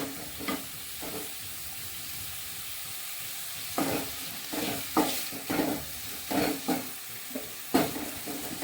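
Onions frying and stirred in a pan over a gas flame while making traditional Konkani kombdi vade, a steady sizzle with repeated scraping stirs in irregular bursts, close and fairly loud with no talk.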